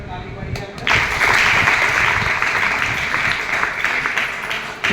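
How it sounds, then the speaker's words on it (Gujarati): An audience at a Sanskrit Vedic school in Bharuch breaks into sustained applause, steady and dense for several seconds after a brief quieter start, with some voices mixed in. "પરિવાર તરફ તાળી પાડીએ આપણે."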